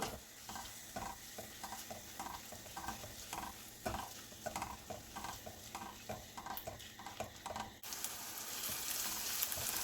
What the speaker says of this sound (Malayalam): കുറച്ച് കറിവേപ്പില, ഇത് എല്ലാം ഇട്ട് കൊടുത്തൊന്ന് വഴറ്റി കൊടുക്കാം